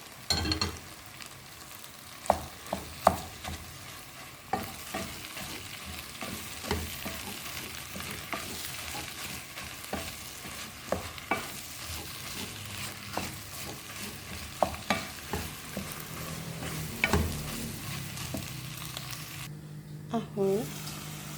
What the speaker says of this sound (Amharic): ስጋና ሽንኩርት አንድ ላይ እንደዚህ ታናልና